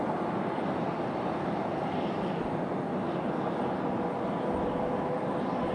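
A Boeing 737-900 airliner landing in a gusty crosswind at Raleigh-Durham airport gives a continuous, steady engine roar, distant but unbroken for the whole stretch.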